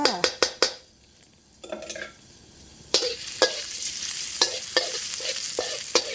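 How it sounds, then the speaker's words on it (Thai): Garlic fries in a little vegetable oil in a pan, with a quick run of utensil clacks on the pan, then a soft steady sizzle broken by repeated scraping stirs. "เติมน้ำมันพืชลงไปเล็กน้อยค่ะ หลังจากนั้นนะเจียวกระเทียมให้หอมเลยจ้า"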